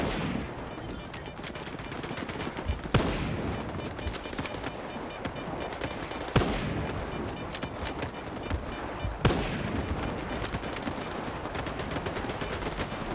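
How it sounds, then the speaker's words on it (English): Gunfire at a poltergeist in the video game Stalker 2: sustained rapid automatic fire with a few louder shots standing out. "I'm gonna have to shoot this box."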